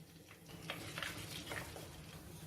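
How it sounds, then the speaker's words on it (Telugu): Tempering spices, urad dal among them, fry in hot oil with a steady close sizzle and crackle, and a few louder spits and pops rise over the hiss. "ఓకే అండి, పోపు దినుసులు వేగిపోయాయి."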